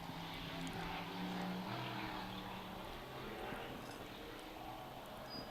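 A 1600-horsepower racing powerboat with a twin-turbo 427 cubic inch Chevrolet engine, on Gold Cup practice, gives a loud, steady roar that holds evenly throughout with no voices.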